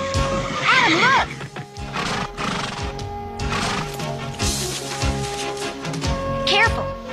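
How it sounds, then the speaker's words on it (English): Cartoon winged horses neigh and whinny in rising, wavering calls, with a second whinny near the end, layered over busy animated-series music and effects at close, loud level. "Teela, you said we were going on a wild horse roundup, but you didn't say they had wings."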